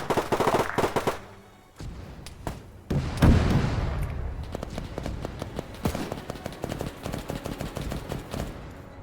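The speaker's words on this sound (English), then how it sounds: "Hearing that artillery" World War II battle in a video game at Henderson Airfield: rapid gunfire and machine-gun bursts crackle continuously, with a heavy, loud artillery boom landing a few seconds in and echoing beneath the ongoing shooting.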